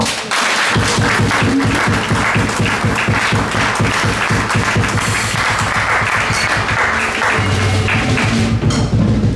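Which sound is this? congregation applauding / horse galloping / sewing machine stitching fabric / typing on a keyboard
congregation applauding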